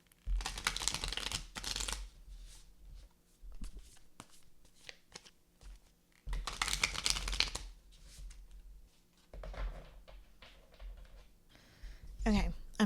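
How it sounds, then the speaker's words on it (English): Repeated bursts of a tarot card deck being riffled and shuffled, crisp and close, with quieter handling sounds between the bursts. "I'm going to shuffle the deck a little bit, enjoy some"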